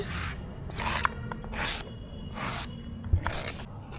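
Ginger and garlic ground together into paste on a grinding stone, giving about five rhythmic, close rasping strokes with short pauses between them.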